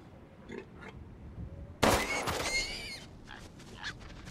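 A wild boar enemy in Resident Evil Village gives a loud, close burst of grunting and squealing lasting about a second, followed by fainter scattered grunts over a steady game background.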